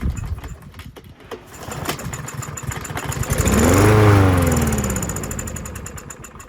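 A Troy-Bilt TB110 push lawn mower engine, suspected of a carburetor fault, is cranked on starting fluid: rapid puttering catches, then it roars up loudly for a couple of seconds before dying back to a rough sputter.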